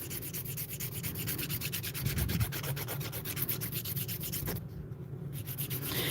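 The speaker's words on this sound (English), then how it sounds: "and then I'll get the rest with the drill" A small electric nail drill whirs steadily at close range, filing continuously against acrylic nails with a brief pause near the end.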